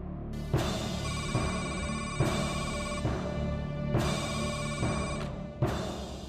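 A telephone rings repeatedly in a Punjabi TV drama scene, a loud electronic bell in even bursts of about a second with short gaps, continuing steadily through the clip without speech.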